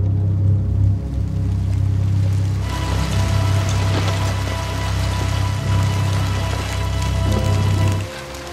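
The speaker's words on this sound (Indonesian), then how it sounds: "diikuti oleh turunnya rintik hujan" Light rain falls steadily and close by, a soft even patter with a low hum beneath it, growing denser partway through and lasting most of the clip before stopping.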